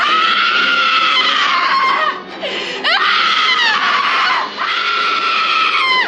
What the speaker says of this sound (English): The screaming has definitely taken a physical toll on me.